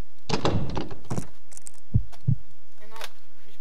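In the Amnesia video game, a stuck door rattles and will not open: a burst of clattering knocks, then two dull thumps a moment apart, with a brief voice near the end.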